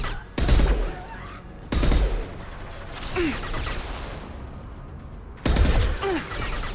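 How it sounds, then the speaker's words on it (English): A 3-round burst sniper rifle fires in the Mass Effect 2 video game, with loud sharp bursts separated by pauses, alongside in-game ambience and effects. "Oh, I see. 3-round burst. Okay. Ooh, I don't know if I like this sniper."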